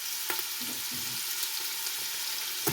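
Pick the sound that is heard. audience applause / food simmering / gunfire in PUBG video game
food simmering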